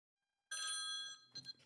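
A telephone rings on a call-in show as the caller dials back, a single loud electronic trill that sounds for about half a second and then fades into a few softer, broken bursts.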